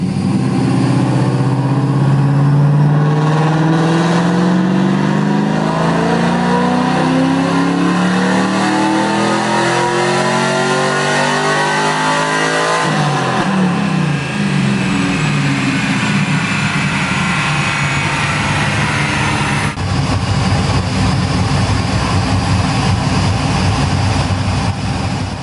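A cammed Pontiac WS6 engine on a dyno, street tuned, climbs in a loud continuous rev toward 6,500 RPM with a rising pitch, then drops back and settles into a steady high roar, close and alone.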